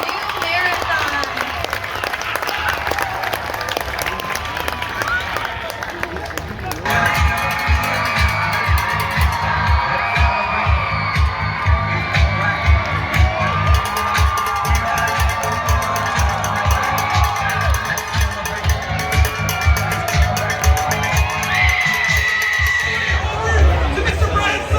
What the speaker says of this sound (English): Let's give one more round of applause for all 110 teams starting the 75th annual Ausable Canoe Marathon.